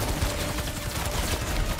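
Sustained bursts of enemy gunfire in the Spider-Man 2 video game, rattling in a fast, uneven rhythm at fairly loud volume with no talk over it.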